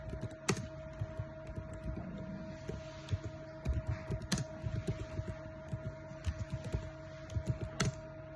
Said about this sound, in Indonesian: Pertama-tama aku mau ketik di terminal itu